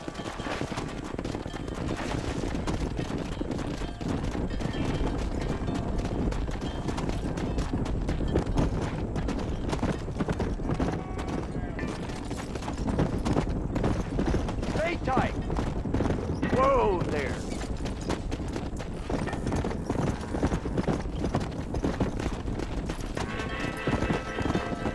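Horse hooves galloping in the video game Red Dead Redemption as a rider chases a herd, a steady rapid clip-clop over a continuous mix of game sounds, with a voice partly audible.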